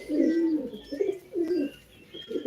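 A pigeon coos nearby in soft, low, throaty phrases, repeating several times in a quiet setting.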